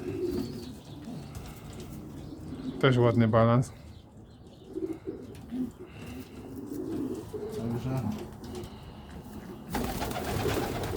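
Pigeons coo nearby over a low, breathy background, one a pigeon feeding two young, with one loud, throaty rolling coo standing out; someone speaks briefly in Polish.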